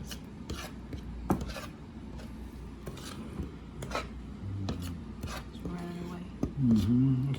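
Eggs being worked into flour by hand for homemade pasta dough, a soft steady rasping and rubbing on a board with scattered light taps, close and fairly quiet.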